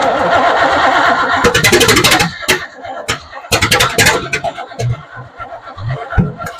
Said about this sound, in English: go ahead and crank it again, Scott.